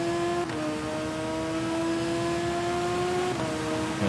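Motorcycle accelerating away in the TT Isle of Man racing game, a loud sustained engine whine that climbs steadily in pitch, drops briefly at a gear change, then climbs again.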